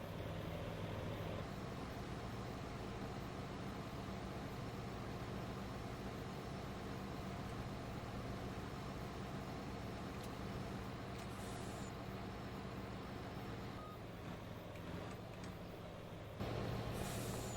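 A heavy rescue tow truck backing in, in the farming simulator game Farming Simulator 25, with a continuous loud engine drone, then an air brake hiss and a sharp change near the end.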